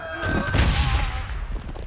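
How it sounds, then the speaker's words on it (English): A frag grenade blast in Warhammer 40,000: Gladius, one deep, muffled boom that swells early and rolls off into a low rumbling tail, fairly loud and heard alone. "I'm going to use a frag grenade on him."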